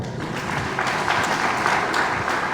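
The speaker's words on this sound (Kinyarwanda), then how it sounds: "Nibamuha amashyi menshi cyane" Applause from a church congregation during a sermon, a steady dense wash of many hands clapping at fairly loud level, with a faint voice underneath.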